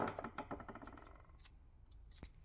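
A knife trims excess masking material off a Panavise 350 being prepared for painting, giving quiet close scratchy cuts in quick short strokes.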